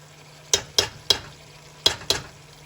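A spoon stirs tomato paste into chili sizzling in a pot, giving five distinct scraping strokes at an uneven rhythm over a low, steady background hum, close and moderately loud with no talking.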